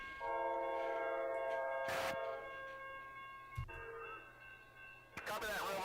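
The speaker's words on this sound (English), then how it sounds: "as the number 6 eastbound CZ pulls in" Eastbound Amtrak number 6 California Zephyr pulling into a station, sounding long sustained horn chords with a brief bell-like clang, rumbling rail noise beneath, and a short burst of talk near the end.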